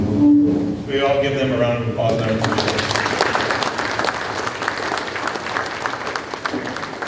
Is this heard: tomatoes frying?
no